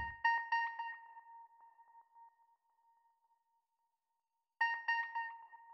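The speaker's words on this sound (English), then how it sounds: "I went with the Partial Divide preset, so now it sounds like this." A dark synth bell sample run through the Portal Partial Divide preset, with shimmering metallic tones that ring out, fade into a long thin sustain and silence, then a fresh bell phrase enters. No one speaks.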